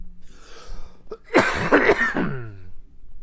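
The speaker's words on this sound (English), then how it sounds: "my cough is getting the better of me, so I think I'm going to have to go." A man coughs and clears his throat several times in a close, harsh burst, with a few short rough hacks clustered together before trailing off into breathing.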